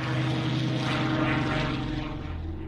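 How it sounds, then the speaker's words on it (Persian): A Spitfire fighter plane with a Rolls-Royce engine, a loud, steady propeller-engine drone with a throbbing low rumble sustained throughout, no voices. "با هواپیمای محشری به نام اسپیتفایر با موتور رولز رویس که یکی از بهترین جنگنده‌های جهان است"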